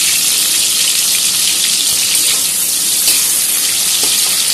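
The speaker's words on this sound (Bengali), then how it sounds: "এটা কিছুক্ষণ ভাজা হবে" Tomatoes and paneer fry in a pan, seasoned with a little salt and turmeric for an aloo paneer dish, giving a steady, loud, hissing sizzle that runs unbroken throughout with no talk over it.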